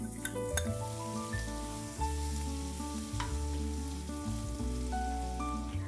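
Two finely chopped onions sizzle and fry in a pan of yam (suran) bhaji, a steady close crackling hiss that carries on over a faint tonal background.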